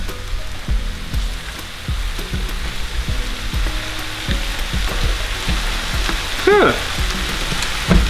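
Noodles fry in a pan with eggs and vegetables as they are mixed together, giving a steady close sizzle broken by repeated scraping and stirring knocks from a utensil.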